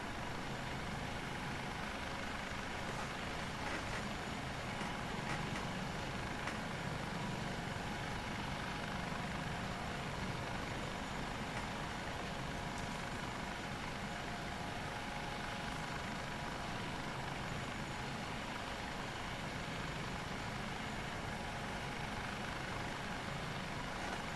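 The simulated HH-65A Dolphin (AS365N2 Dauphin) helicopter in Microsoft Flight Simulator 2024 gives off a faint, steady rotor and engine drone that stays even throughout, with no voices.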